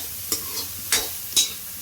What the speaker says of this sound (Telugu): ఇది మంచిగా గోల్డెన్ బ్రౌన్ కలర్ వచ్చే వరకు వేపుకోవాలి గైస్.